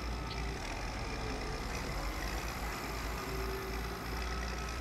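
A tractor engine drones steadily in the farming game Farm Expert 2017 while plowing a field, a loud constant low rumble with slight shifts as gears change.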